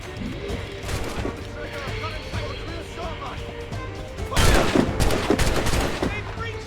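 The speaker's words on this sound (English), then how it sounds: "They're shooting back!" Gunfire from Assassin's Creed Rogue, a steady crackle of musket volleys under shouting voices, swelling into a loud burst of close shots and crashes near the end.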